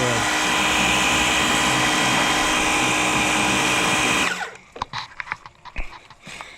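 Dewalt 20V cordless battery power washer rated at 550 psi spraying water to clean off grease, a steady loud hissing rush with a motor whine that stops abruptly, followed by scattered handling clicks and knocks.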